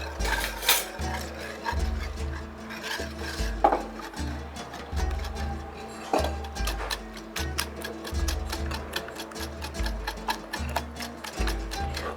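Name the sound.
mixing flour, baking powder and semolina for a cake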